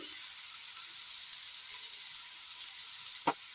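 Chopped onion and garlic go into a little hot oil in a pan on the stove, giving a faint, even hiss of frying. A single sharp click stands out near the end, and no voice is heard.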